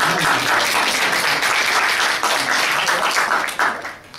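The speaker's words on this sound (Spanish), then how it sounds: "Quisiera solicitar un fuerte aplauso para ambos equipos que han desarrollado." Sustained audience applause at a national debate league event, honoring both debate teams; dense, steady clapping fills the whole span loudly before tapering slightly near the end.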